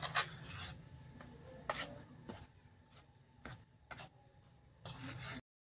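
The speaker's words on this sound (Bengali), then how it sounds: "বাদামের গুঁড়ো আর গমটা আমি একটা চামচ দিয়ে ভালো করে মিশিয়ে নিচ্ছি।" A spoon scrapes and rubs through a mix of ground nuts and wheat in a bowl, giving soft intermittent gritty strokes with brief clicks, close and quiet with no talking.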